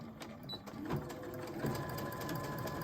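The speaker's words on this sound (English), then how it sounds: "I just want to do some straight stitching on the edging" Sewing machine running straight stitches along the edging of woven textile-scrap fabric, a close, steady whirring hum with rapid rhythmic needle clatter that picks up and holds its pace.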